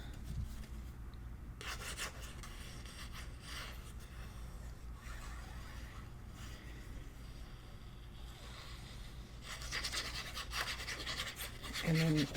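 Paper being burnished onto a Stamperia Atelier des Arts craft album, a soft steady rubbing and scraping that runs throughout, with a few brighter, harder strokes near the end.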